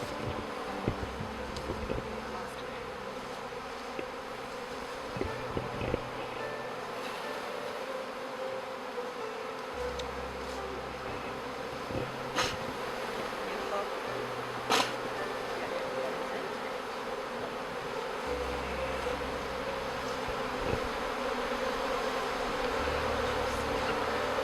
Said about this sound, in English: this one here is a drone bee